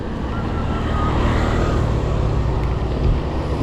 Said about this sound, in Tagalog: Truck ng basura.